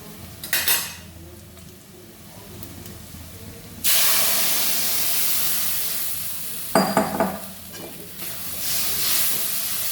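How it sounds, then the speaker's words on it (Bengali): Gram flour (besan) tipped into a hot pan sets off a sudden loud, steady hiss that slowly fades, with metal spoon-and-pan clanks at the start and during the stirring, and no talking. "ভাজা ভাজা হয়ে গেছে, বেসনটা ঢেলে দেবো।"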